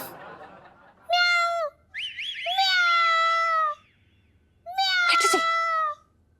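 A person imitates a cat with three drawn-out, wavering meows separated by short pauses, fairly close and loud.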